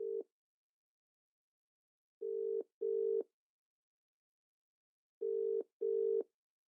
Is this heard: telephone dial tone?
yes